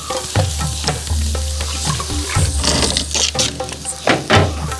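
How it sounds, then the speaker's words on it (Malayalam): Chopped onion frying with ginger in a pan, a loud close sizzle under repeated scraping and stirring strokes, with a low steady hum beneath. "ഒരു സബോള കൊത്തി അരിഞ്ഞത് ഇടണം"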